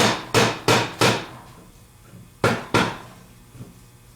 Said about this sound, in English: tap it down in, or use the wood side or the rubber side of the hammer